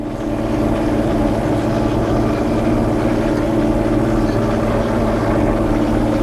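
A John Deere 4440 tractor engine labours under heavy load with fresh oil, a steady loud drone with strong low harmonics holding constant throughout, no talk over it.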